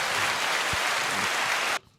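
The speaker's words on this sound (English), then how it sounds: "give more a round of applause for that" A brief round of applause from a small group during a podcast chat about San Diego Comic-Con 2024, a steady burst of clapping lasting under two seconds before cutting off sharply.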